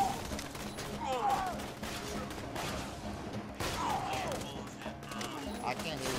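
Pistol fire crackles in Borderlands 2 amid a chaotic co-op firefight, bursts of rapid shots and crashes running under excited voices talking throughout.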